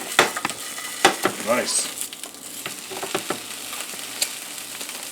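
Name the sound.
pork roll slices frying and browning in a pan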